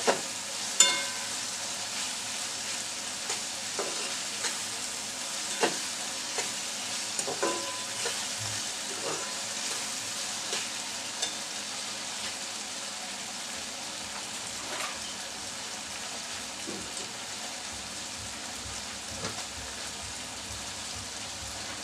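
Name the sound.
eggs and tomatoes frying and being stirred in a pan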